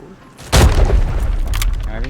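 A sudden loud explosion booms in the shooter game Arena Breakout, a heavy blast with a rumbling, crackling tail that lingers under excited player voices.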